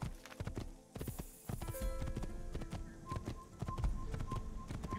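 Horse hooves clip-clop steadily while riding in the Assassin's Creed video game, with the rhythmic footfalls heard alone over game ambience and music, close and moderately loud.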